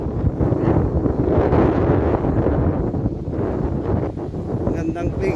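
Strong coastal wind at Pagudpud by the sea buffets the microphone in a loud, continuous roar with gusty low rumble throughout.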